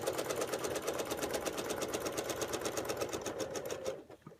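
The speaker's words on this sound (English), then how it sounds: "Take a couple of in place stitches to lock, and then stitch down." A quilting sewing machine stitches with a ruler foot along a QP Curve template in a fast, even, buzzing rhythm that stops abruptly near the end, with no talking.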